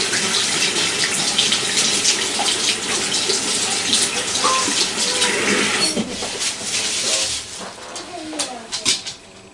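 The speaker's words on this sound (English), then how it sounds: "Rinse your hands off, still with the gloves on." Tap water gushes steadily into a sink while gloved hands are rinsed during hair-dye work on dreads, a loud, close splashing hiss that thins toward the end as the flow is disturbed. Faint bird calls sound in the background.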